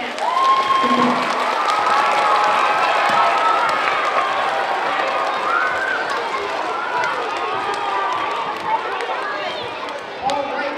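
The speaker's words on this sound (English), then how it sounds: "you need to give yourselves a really loud clap right now" Schoolchildren in a school gathering for a recycling award clap and cheer loudly, a dense, sustained roar of applause and shouting voices that carries through the full stretch and eases slightly near the end.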